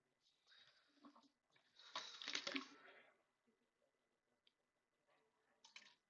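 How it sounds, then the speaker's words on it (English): A person drinks water in a quiet room, with a few soft sips and a longer swallowing, splashy burst up close, followed by faint clicks and near silence. "Let me have some water"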